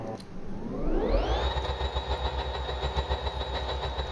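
A custom-built piston engine in a video game revs up from idle to a steady high drone, its pitch climbing over the first second and then holding as a continuous loud whine with a low rumble underneath.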